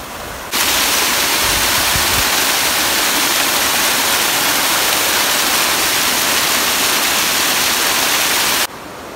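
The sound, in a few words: waterfall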